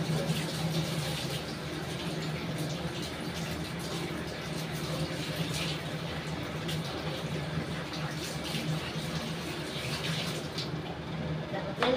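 Tap water runs steadily over dried fish being rinsed in a kitchen, a continuous splashing gush heard close and fairly quiet.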